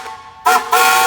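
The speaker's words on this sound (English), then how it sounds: "How about a whistle there, Chris?" A steam traction engine at a steam show blows its whistle in two loud, close, shrill blasts separated by a brief gap.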